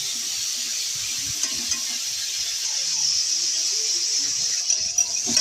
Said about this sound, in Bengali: দিয়ে মাছগুলো ভালো করে ভেজে নেব।